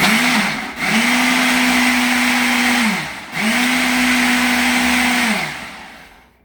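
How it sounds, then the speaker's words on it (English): A Ninja blender whirs through a spinach smoothie in two long steady bursts, with a pause between them, then the motor spins down; loud and close, with no voices. "So we're going to stick that on the blender and just give it a good pull."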